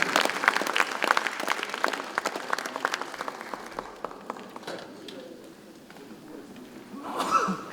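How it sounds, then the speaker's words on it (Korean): A party workshop audience applauds a leader being introduced, the clapping loud and dense at first, then thinning and fading before a brief swell near the end. "큰 박수만"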